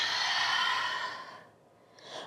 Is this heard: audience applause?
no